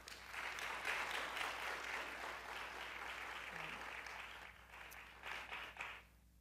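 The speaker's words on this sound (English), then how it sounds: "So another round of applause for our panelists." An audience applauds the panelists at a maternal health panel discussion, a steady, moderately distant round of clapping that continues evenly before thinning out, with a brief voice near the end.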